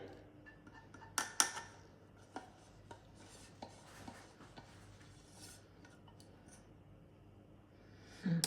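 Flour, spices and honey being mixed in a bowl for traditional Alsatian cakes, a series of light scraping taps and clinks of utensil against bowl, spaced irregularly and fairly quiet, with a louder clatter at the end.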